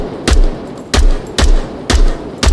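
Five sharp, loud gunshots from a firearm in the virtual-reality shooter game Onward, fired one at a time at a steady rhythm of about half a second, with booming low ends and no talk.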